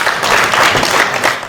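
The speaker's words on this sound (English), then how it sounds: "Now, a round of applause." Workshop audience applauding together, a dense, steady wash of clapping at moderate loudness that holds for a second and a half without any talk.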